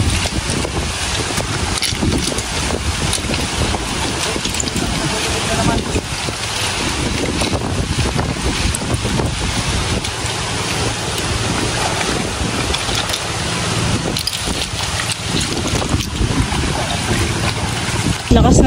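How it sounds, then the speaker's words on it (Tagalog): Strong wind sweeps across a fish pond, roaring loudly and constantly and buffeting the microphone with dense rumbling gusts that last the whole time. "Lakas na naman po ng hangin."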